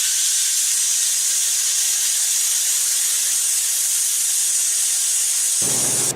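A Hypertherm 45 amp plasma cutter slicing 1.5 inch steel plate gives a loud, steady, high hiss that holds constant for several seconds before shifting abruptly at the end.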